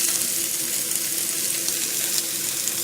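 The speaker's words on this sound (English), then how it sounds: "And now we'll give our cauliflower another flip." Cauliflower sizzling and frying in a pan, a steady bright hiss running evenly throughout with a faint low hum beneath and no talking.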